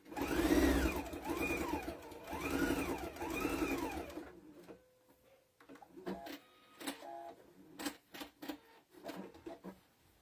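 A home sewing machine runs a quarter-inch seam on a quilt-as-you-go block with a loud, close, rhythmic whirring hum for about four seconds, then a series of quieter clicks and handling noises.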